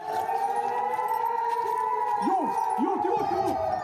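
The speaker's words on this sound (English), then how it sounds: "As warning sirens blared, Israelis ran for cover." A wailing air-raid warning siren in Israel holds a steady tone in the distance while a voice talks over it near the end.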